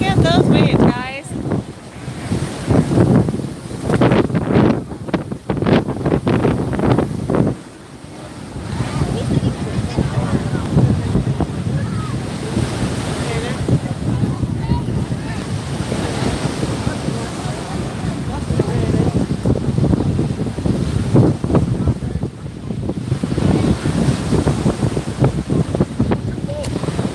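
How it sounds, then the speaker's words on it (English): Ocean waves surge and crash beneath steady, blustery wind battering the microphone near a boat, a continuous loud wash of surf and gusts lasting throughout. "Look at those waves, guys."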